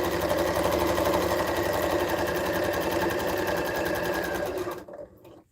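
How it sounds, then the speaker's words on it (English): A sewing machine chain-stitches quilt fabric pieces for a sweater quilt, running in a steady, close mechanical whir for nearly five seconds before it stops. "I'm not going to make you guys watch me sew 13 pieces of body fabric"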